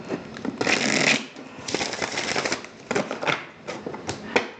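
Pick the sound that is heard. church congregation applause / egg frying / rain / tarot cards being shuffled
tarot cards being shuffled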